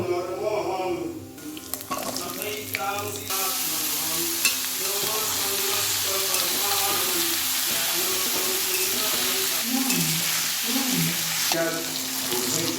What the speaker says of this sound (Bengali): সবজিটা ভেজে নেব